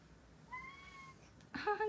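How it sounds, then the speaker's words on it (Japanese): Three-month-old kitten meowing, a thin drawn-out high mew followed by a louder, brighter second meow up close in a quiet indoor room. "あ、猫たが泣いた。"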